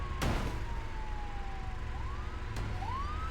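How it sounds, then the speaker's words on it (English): A police car siren switched on in a video game, its tone sweeping steadily up and down, with two sharp clicks or bursts near the start and again later. "I'm gonna turn my sirens on"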